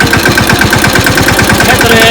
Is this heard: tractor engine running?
yes